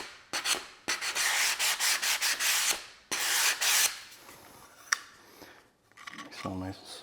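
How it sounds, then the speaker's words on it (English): Edges of a hexagonal tile are sanded by hand in quick, rhythmic rasping strokes up close, with a few short pauses, then a brief spoken voice at the end. "Sand up your edges."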